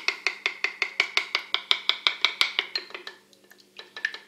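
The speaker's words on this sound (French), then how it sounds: "On va prendre les œufs et juste avant de les mettre, on va les battre un petit peu" A fork beats eggs in a bowl for an olive cake batter, clinking in quick regular strokes about four per second, pausing briefly before resuming.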